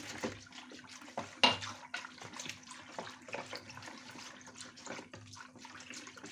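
Lukewarm water poured into a dough mixture, a faint, close trickle and splash of liquid with soft clinks, quiet and without talk.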